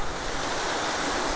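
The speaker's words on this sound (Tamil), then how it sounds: "இந்த அருவியை பார்க்குறதுக்கு தான் அங்கேருந்து இங்கே வந்தோம்." A waterfall at Vathalmalai roars in a dense, unbroken wash of falling water, loud and close throughout the short stretch with no talking.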